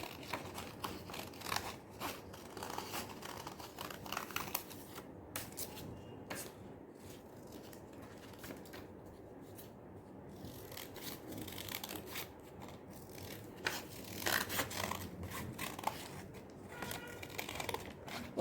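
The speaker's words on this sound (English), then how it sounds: "Now, very neatly, cut this out." Paper being cut with scissors while making a paper yak mask, with steady snipping and crinkling throughout, fairly quiet and close, with no talking.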